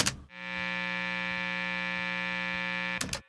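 Steady electrical hum from a Fralin noiseless P90 stacked guitar pickup, a constant buzzing drone held for about three seconds with bursts of handling noise at the start and end.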